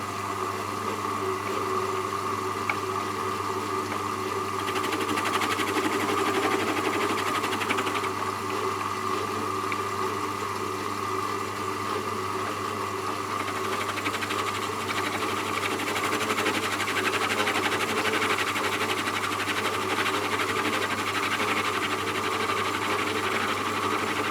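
A Hercus metal lathe facing off a workpiece gives a continuous steady motor hum with a mechanical whine and faint cutting chatter, close and even throughout, with no talk.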